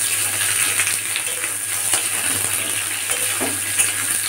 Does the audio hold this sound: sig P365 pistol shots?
no